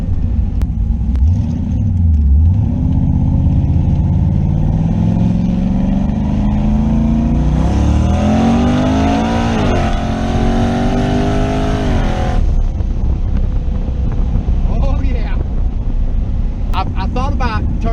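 A car with a JEGS XHD torque converter and boost set around 17 pounds accelerating hard, engine rumble climbing in pitch through firm gear shifts, loud and close with wind buffeting the microphone.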